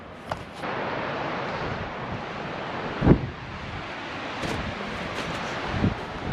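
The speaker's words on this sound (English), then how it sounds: "These waves are, I've never seen waves like this at Sand Harbor" Steady wind roars against the microphone over rolling waves on Lake Tahoe at Sand Harbor, with a few louder thuds and splashes breaking through.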